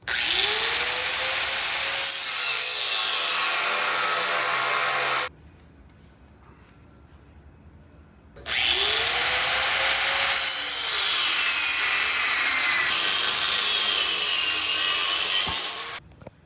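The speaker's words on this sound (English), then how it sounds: "1/4-inch wall. You know, lots to do for the grinder, but it works. That's the cut." An angle grinder cuts through quarter-inch wall steel tubing for an expedition truck subframe, a loud, close, sustained abrasive whine that stops for about three seconds, then resumes with the same harsh grinding.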